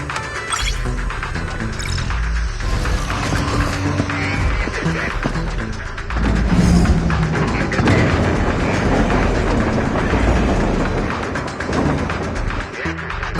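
A train moves through a video game level with dense, loud mechanical rumbling and clanking that runs steadily for about thirteen seconds and swells briefly partway through.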